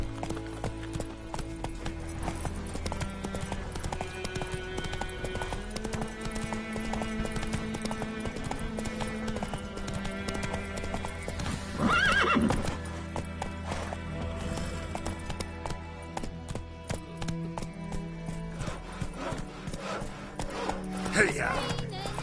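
Hooves of Roach the horse pound in a steady gallop through The Witcher, with rhythmic clip-clop, a brief neigh and game music beneath, while voices speak now and then.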